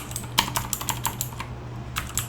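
Quick typing on a computer keyboard while a name is entered into a cloud console form, a steady run of light, close key clicks over faint background hum, with a short pause before the tapping resumes.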